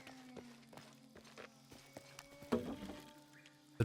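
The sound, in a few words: small llama walking, hooves clip-clopping, in Shadow of the Tomb Raider video game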